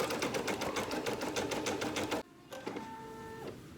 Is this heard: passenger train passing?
no